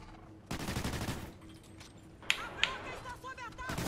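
An automated sentry turret fires in an Extinction mode match of a shooter video game, with a dense burst of rapid gunfire followed by scattered sharp shots, heard under a voice talking.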